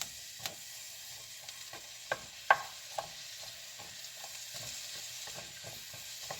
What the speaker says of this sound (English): We're going to throw it in the pan. And what I want to do is I want to fry it.